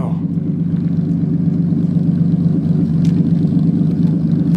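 A classic Ford Edsel rumbles at a car show, its engine a steady low idle heard nearby, with faint crowd ambience and a couple of brief clinks in the background.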